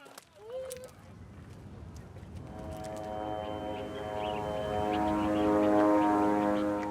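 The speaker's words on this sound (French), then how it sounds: "Il ne reste que le bruit obsédant des drones." Drones buzzing overhead in Gaza, a steady droning hum that builds and holds at a moderate distance, with faint voices and other background sounds beneath it.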